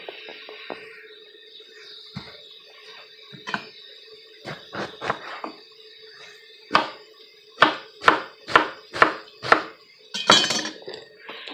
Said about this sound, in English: I'm going to go over and start cutting up all the rest of my vegetables.